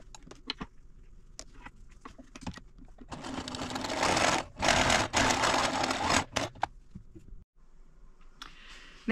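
A sewing machine stitches a quarter-inch seam down the side of cotton fabric in a quiet craft room, whirring in a steady burst of a few seconds after some light clicks and handling.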